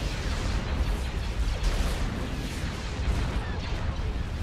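Bombs burst in a Star Wars Empire at War: Forces of Corruption space battle, a continuous dense barrage of booming explosions and crackling impacts rumbling without pause.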